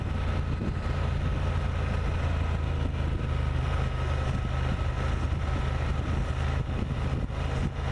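A Honda Transalp motorcycle engine hums steadily at speed around 4,000 RPM, mixed with constant rushing wind, loud and unbroken throughout.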